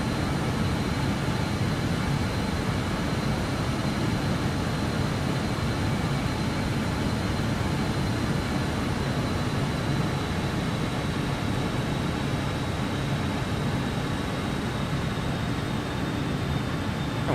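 Steady, unbroken roar of aircraft engines at reduced throttle in Microsoft Flight Simulator 2020, a dense broadband drone with a faint high whine, constant and loud throughout with no talk.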